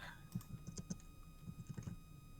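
Someone types on a computer keyboard during a voice chat, a quick, irregular patter of light key clicks in two short bursts, close and fairly faint, with no talk.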